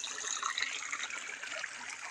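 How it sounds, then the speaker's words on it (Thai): Water flows and gurgles steadily as it runs into a rice paddy in rural Isan, Thailand, a soft continuous trickling splash heard up close with no voices. "ดูพี่น้องเบิ่งนี่น้ำไหลโจกๆอยู่ครับ"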